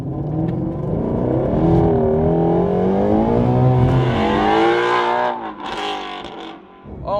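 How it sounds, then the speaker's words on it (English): Shelby GT350R with its exhaust wide open in loud sport mode, a steady, loud, rough engine drone with shifting pitch as it revs, heard close from inside the cabin throughout, briefly dipping near the end. "Loud mode is on, the exhaust is wide open."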